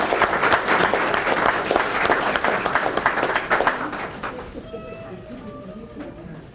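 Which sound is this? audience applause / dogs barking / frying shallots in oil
audience applause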